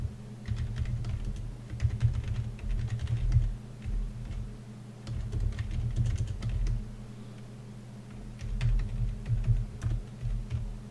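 Steady bursts of typing on a computer keyboard while writing Scala code for a Spark application, close and continuous over a low background hum, no talking.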